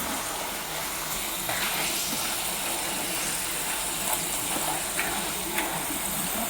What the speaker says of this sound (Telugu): ఇలా గోల్డ్ కలర్ వచ్చే వరకు వేపుకోవాలి